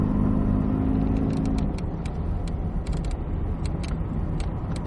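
A Cadillac CTS-V Coupe accelerates on the Circuit of the Americas race track, a loud close-up engine rumble that climbs and then holds steady, with light rattling ticks over it.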